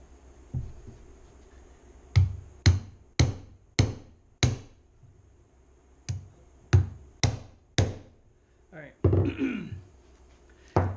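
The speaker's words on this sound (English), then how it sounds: "And then I'm gonna use this insertion tool." An insertion tool is struck repeatedly to drive a seal into a Dana 30 axle on a 1979 Jeep CJ5, giving sharp metallic hammer taps in two quick bursts, with a little talk near the end.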